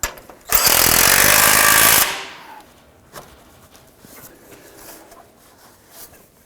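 A power tool snugs down a bolt on a 2015–2020 Ford F-150 throttle body in one loud, buzzing burst of about a second and a half, then falls to faint handling noises.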